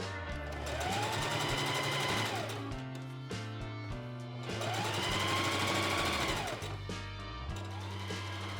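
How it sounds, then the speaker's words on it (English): Sewing machine stitching the side seam of a pinafore, a close rapid mechanical rattle running in two long bursts with brief slower pauses between them. "I'm gonna sew on the quote-unquote side seam first"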